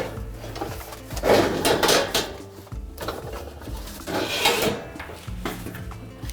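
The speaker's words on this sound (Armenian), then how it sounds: "Գործ ենք դնում ջեռոցի տապակը։" Clattering metal handling as an oven baking tray is set out in a home kitchen, with a few bright scraping and knocking bursts of varying loudness, close by and without talk.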